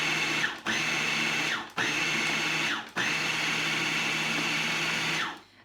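A food processor pulsing a beetroot falafel mixture, a loud close motor whir in four bursts separated by brief stops, the last burst winding down to silence.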